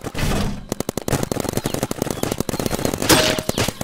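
Golden gun firing in the Big Paintball video game, a rapid automatic burst of sharp, loud shots in quick rhythmic succession after a brief lull, with a flash of higher effect sound near the end.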